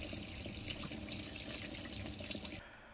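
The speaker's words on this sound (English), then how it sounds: "open all the hot taps in the house to try and get maximum demand and see if it stays on" Hot water taps run full open around a house during a gas boiler test, a steady, close rushing gush that cuts off abruptly near the end.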